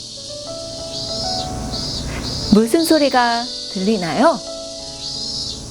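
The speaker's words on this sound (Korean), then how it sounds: "맞아요. 매미 소리예요." A cicada chirps in short, repeated, high buzzing bursts that keep coming at a steady pace, while a voice speaks over the middle stretch.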